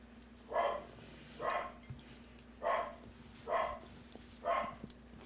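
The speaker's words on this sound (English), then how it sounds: "Now my dog is barking." A corgi barks five times in a slow, evenly spaced series at someone at the door, each bark fairly faint and a little distant indoors over a low steady hum, with no talking.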